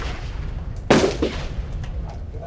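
A single sharp rifle shot fired from behind cover, loud and close, with a short echo tail fading over a quiet outdoor background.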